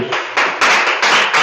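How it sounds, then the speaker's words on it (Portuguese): A Sunday church congregation bursts into applause, several surges of dense clapping building in loud overlapping waves, close and without talk. "vamos a recibirla con un fuerte aplauso."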